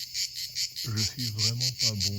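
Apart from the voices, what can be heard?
cicadas chirping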